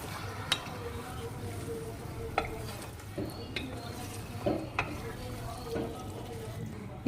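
A spoon stirs jeera masala chicken curry into fried onions in a pan, making a soft sizzle with sharp clinks against the metal several times, while a person talks over it.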